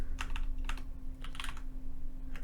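Quick bursts of typing on a computer keyboard, close and fairly quiet, with short clusters of keystrokes separated by brief pauses over a steady low hum.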